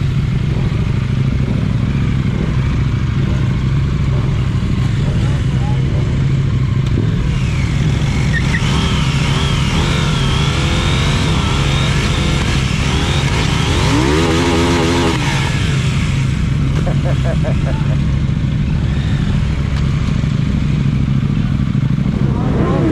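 KTM Duke motorcycle engine on a lap of the Misano circuit, a loud sustained roar with rising and falling revs that never lets up.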